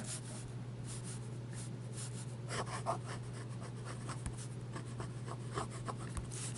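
A Jinhao fountain pen with a hooded nib scratches across paper in close, quiet strokes, with soft irregular scribbling over a steady low hum and no talking.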